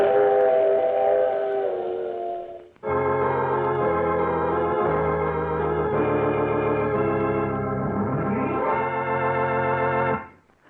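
A train whistle sound effect from an old-time radio drama blows in long sustained chords, first one blast and then a longer, louder stretch that bends in pitch before cutting off, with no talk.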